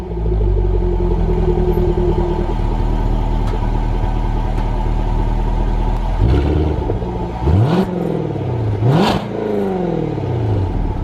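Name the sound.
2020 Jaguar F-Type R engine revving, exhaust button off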